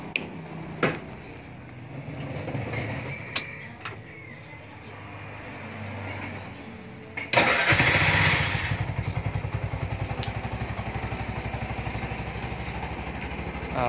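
A used motorcycle engine is started after some handling clatter and thumps, catching abruptly and settling into a loud, close, steady rhythmic idle that runs evenly to the end.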